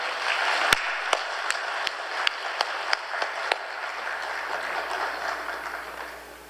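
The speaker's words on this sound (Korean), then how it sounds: "오늘 뜨거운 환영의 박수로 우리 김성국 목사님을 모시겠습니다" Scattered welcoming hand claps from a small church congregation, irregular and fairly close, tapering off after a few seconds.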